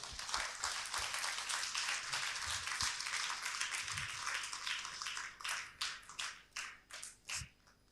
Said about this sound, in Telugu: ఒకసారి మనందరము మన చప్పట్లతో వారిని గౌరవించాలి.